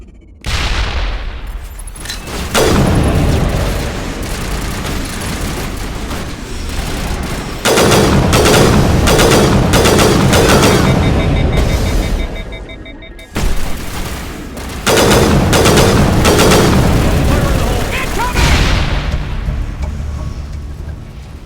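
Heavy gunfire from a Mass Effect firefight, dense bursts of automatic weapons and booms that rage loud and nearly continuous, dropping briefly near the middle before resuming.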